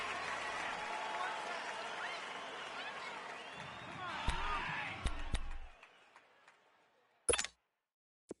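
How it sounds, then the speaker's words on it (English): A stadium crowd in a PS4 football game roars loudly and steadily ahead of a big third down, then fades away, broken by a few sharp clicks and thumps near the end. "the crowd getting into it as we come up on a big 3rd down"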